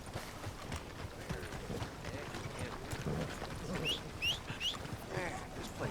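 Horse hooves clip-clop at a steady trot in Red Dead Redemption II, fairly faint, with light game ambience and a few bird chirps around them.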